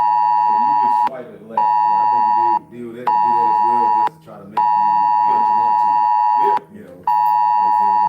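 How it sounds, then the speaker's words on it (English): A phone beeping loudly in steady repeated tones, each lasting one to two seconds with short gaps, over people talking. "that's my phone."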